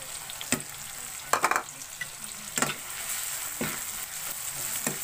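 Galunggong fish frying in a pan with long green chilies, a steady high sizzle broken by several sharp bursts and stirring clatters, close and moderately loud with no talk.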